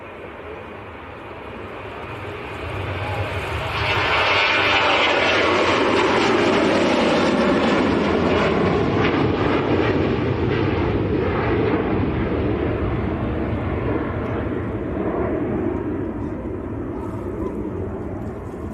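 A Ryanair Boeing 737-800 takes off at Leeds Bradford Airport. Its jet roar swells over a few seconds into a loud, sustained rumble that holds steady and begins to fade only slightly toward the end.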